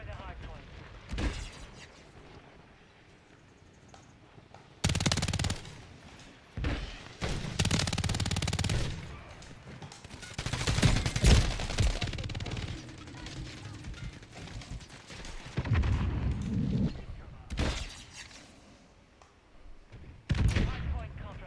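Rapid bursts of SMG fire in Call of Duty Modern Warfare III, loud and close, arriving in several separate volleys with mechanical clatter and game effects between them.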